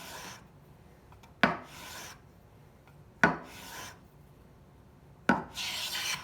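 A freshly sharpened, waxed hand plane, bought used, takes its first passes along a wooden board: three distinct rasping strokes, each a sharp bite followed by a fading scrape, spaced about two seconds apart, close and fairly quiet.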